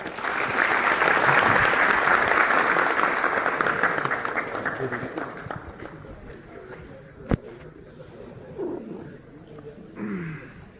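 A university audience applauds in a dense, loud wash that gradually fades after a few seconds, leaving scattered claps, a single sharp knock and faint movement and voices.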